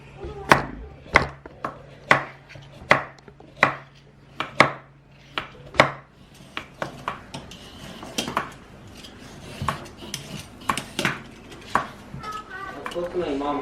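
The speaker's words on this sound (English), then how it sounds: "we'll just chop that off" A knife chops jalapeños on a cutting board in a kitchen: a steady run of sharp, evenly spaced thwacks up close, then a looser, quicker stretch of cuts with people talking faintly in the background.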